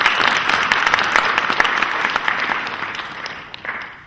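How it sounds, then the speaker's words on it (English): An audience at the 3rd Saudi Pak Accountancy Symposium claps in a dense, steady round of applause that tapers slightly toward the end. "they deserve a great round of applause, Mr. Iqbal and all his team and the organizing committee"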